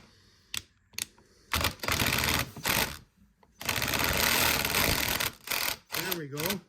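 A repaired Zipbolt Super UT sewing machine runs in loud, fast rattling bursts of stitching separated by short pauses, with a brief voice near the end.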